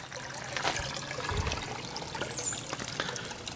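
Water floods into an aquaponic grow bed on a single-barrel system, a soft continuous trickling and gurgling heard close up and fairly quiet, with no voices.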